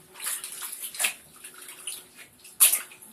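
Bathwater splashes and sloshes in a tub as a child is bathed, soft irregular swishes close by with a sharper splash near the end, no talking.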